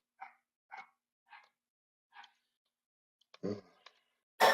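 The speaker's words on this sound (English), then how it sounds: "these dogs won't shut up" Several dogs bark in short separate bursts, four evenly spaced yaps at moderate distance followed by a louder, rougher cluster of barks near the end.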